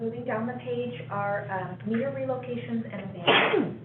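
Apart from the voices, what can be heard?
sneeze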